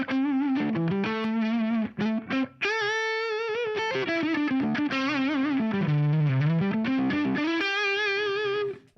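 Electric guitar played through an overdrive pedal placed in front of the amp, a sustained, gritty distorted melody with bends and held notes, loud and continuous with no talking.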